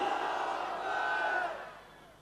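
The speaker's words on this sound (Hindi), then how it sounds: "आइए हम अपनी बहन का इस्तकबाल नारे तकबीर से करते गए।" A political rally crowd at a BMC election meeting shouts the takbir slogan in unison, one loud sustained collective roar that holds for over a second and then fades out.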